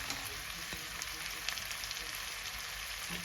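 Food stir-frying in a pan for an evening meal, a steady broadband sizzle with a few faint scraping knocks throughout, close and moderately loud with no talking.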